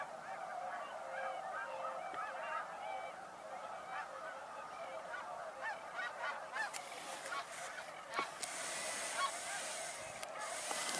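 A large flock of snow geese honks continuously outdoors. The calls form a dense, layered chorus from some distance, with scattered louder honks and a rougher burst of noise toward the end.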